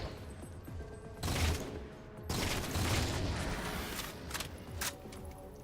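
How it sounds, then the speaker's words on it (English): Triple-round burst weapon firing in the Halo Spartan Ops mission Victory Lap on Legendary, heard as dense, loud bursts of shots over constant battle noise, with no talking. "Triple round burst."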